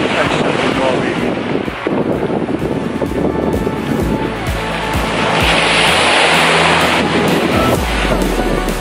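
Strong, cold wind buffets the microphone on Kvalvika Beach in the Lofoten Islands of Norway, a loud, continuous roar with gusty low rumble throughout and surf-like hiss behind it.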